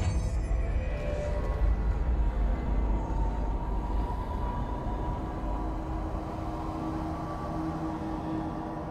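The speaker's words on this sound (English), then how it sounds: "NYC subway." An NYC subway train in the game Control rumbles along with a steady, loud, low roar and a faint screech near the start, continuous and close for the whole stretch, with no talk.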